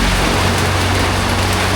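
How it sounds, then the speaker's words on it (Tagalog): Heavy rain falls in a steady, dense broadband wash with no breaks, loud and close, with a low rumble beneath and no voices. "Sobrang lakas na ng ulan."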